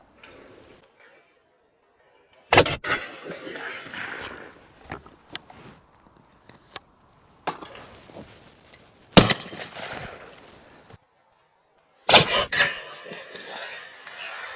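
Sharp shots from a vintage English side-by-side shotgun crack out at clay targets one after another, each loud blast trailing off into an open-air echo, with quiet gaps in between.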